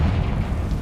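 Confringo fire spell blast in the Hogwarts Legacy video game: a loud, low rumbling explosion that holds steady across the whole brief moment, with no talking.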